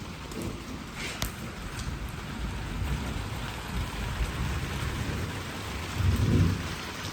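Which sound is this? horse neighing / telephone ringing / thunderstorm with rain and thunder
thunderstorm with rain and thunder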